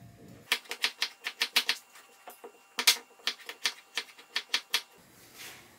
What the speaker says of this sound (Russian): Я нарезаю достаточно таким, ну не мелким, средним кубиком.